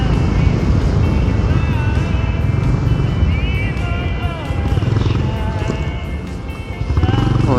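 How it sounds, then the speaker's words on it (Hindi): Honda H'ness CB 350 motorcycle accelerating hard to about 80 km/h on a twisty road, its steady loud engine and exhaust drone rising in pitch, with wind rush and a voice talking over it throughout. "Now I have again pulled the throttle and the bike goes flies to 80 kmph without a hassle."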